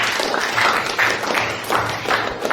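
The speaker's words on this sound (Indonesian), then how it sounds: "Oke, tepuk tangan untuk Deva jawabannya ya." A classroom of students applauds together for a classmate's answer, a dense continuous patter of many hands, loud and close throughout with no voices.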